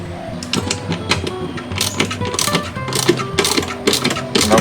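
Rapid mechanical whirring and ratcheting bursts as screws are driven tight while fitting a spare fuel tank to a Honda Forza 350 scooter, close and repeated in short irregular spurts.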